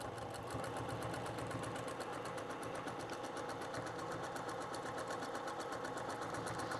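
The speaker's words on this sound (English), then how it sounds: "I'm just going to run that sewing machine down" A sewing machine stitching through three layers of fabric runs at a steady pace, its rapid mechanical stitching chatter continuous and close for the whole stretch.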